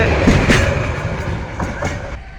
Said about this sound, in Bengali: এই মুহূর্তে ট্রেনটি ছেড়ে চলে গেল এই রেল লাইন দিয়ে